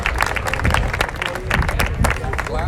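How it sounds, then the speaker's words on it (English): A crowd at a charity 5K walk for blood cancer applauds survivors outdoors. The clapping is dense and fairly loud, with a few cheering voices mixed in. "So it is worth one big round of applause."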